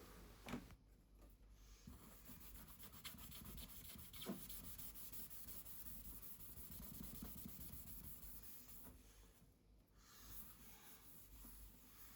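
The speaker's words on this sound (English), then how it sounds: "I thought I'd just go straight in with the magic eraser, because I know every time it gets them straight off" A magic eraser scrubs sticky sticker residue off a 2007 high-end gaming PC case, producing steady, faint rubbing and scraping that continues throughout with only brief dips.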